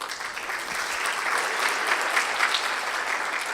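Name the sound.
audience applause started by someone from Tamkeen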